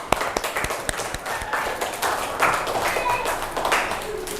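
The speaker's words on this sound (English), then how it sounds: "give applause to all of us." A classroom of students claps together, with a close, uneven patter of hand claps and several sharp individual claps, while voices talk over it.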